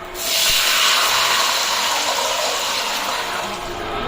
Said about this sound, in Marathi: त्यात आता टाकणार पाणी.